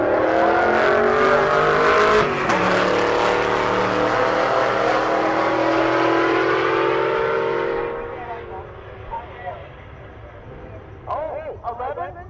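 A big-tire Stingray Corvette drag car blasts down the strip at a race week event, its loud engine howl sustained and then fading into the distance, with an announcer talking over it.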